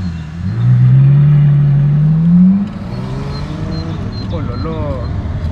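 A sports car engine revs hard in a loud, rising sustained roar for about two seconds, then eases back to a lower idle rumble while a voice speaks nearby.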